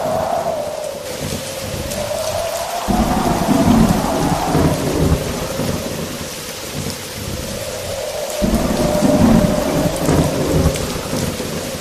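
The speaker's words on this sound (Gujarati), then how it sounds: "અચાનક કડાકા ભડાકા સાથે ભયંકર વરસાદ શરૂ થઈ ગયો" Thunderstorm with heavy, steady rain pouring down, deep thunder rumbling and cracking twice at close range over the continuous wash of rainfall.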